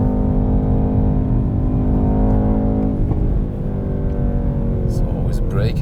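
A Mercedes-AMG E63S with its 612 hp V8 accelerates hard on a damp road, the engine a steady, loud drone heard from inside the car with rising harmonics, easing briefly midway before pulling on again.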